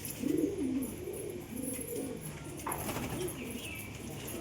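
A male Lotan pigeon coos at a female in a pigeon loft, with low, throaty, rolling coos near the start and again midway over faint background noise.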